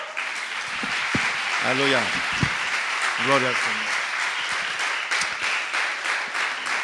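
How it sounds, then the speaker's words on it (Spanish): Steady congregation applause at an evening church service, a broad wash of clapping throughout with a preacher's voice calling out over it. "Pues dale un aplauso a Cristo, hermano."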